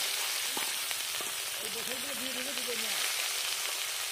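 Chopped onion and tomato frying in a pan for a Bengali pabda fish curry with cauliflower and bori, a steady close sizzle running throughout, with a brief voice murmuring partway through.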